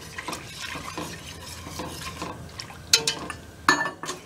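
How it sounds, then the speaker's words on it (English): A pot of chocolate coffee sauce made with water, cocoa, coffee, sugar and melted chocolate is stirred with a utensil, giving soft scraping and liquid swirls and then a couple of sharper clinks near the end. "We're gonna keep stirring till all the sugar is melted and the chocolate is melted and it starts to boil"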